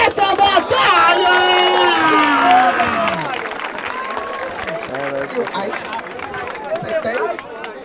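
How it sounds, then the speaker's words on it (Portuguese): Crowd at a rap battle erupts in applause and cheering, loud and dense at first, then thinning into mixed clapping, shouts and chatter under a voice talking. "Palmas pra essa batalha!"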